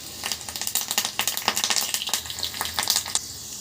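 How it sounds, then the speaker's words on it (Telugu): Mustard seeds, cumin and curry leaves frying in hot oil, a close, continuous crackle with rapid irregular pops and spits throughout. "ఈ కాస్త మనకు ఫ్రై కానిద్దాం"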